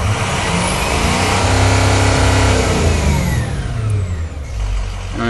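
A stock pickup truck engine, a Blackwater longblock with a head gasket leak, roars loudly and steadily as the throttle is pressed, the revs climbing and holding with a heavy low rumble before dipping briefly near the end.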